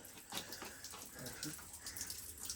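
Spring water runs and splashes at a spring house under construction, a close, busy rushing trickle with a spoken exclamation from a person over it.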